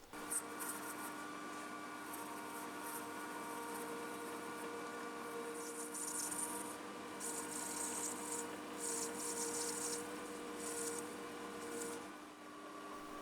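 A hand file rasps faintly and steadily along the edges of a metal Kant twist clamp part, cutting chamfers in a quiet shed workshop. Several short strokes come in bursts toward the end.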